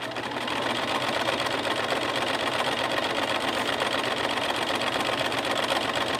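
A sewing machine stitches a zigzag seam at a steady, fast rhythm, a loud continuous mechanical whirr and rapid ticking from start to finish with no voices.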